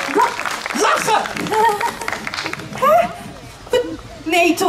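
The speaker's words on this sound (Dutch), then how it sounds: "Geef er een heel, heel, heel hard applaus." Clapping from an audience at a Dutch fairy-tale stage show, mixed with lively voices, chatter and laughter throughout, with uneven swells rather than a steady ovation.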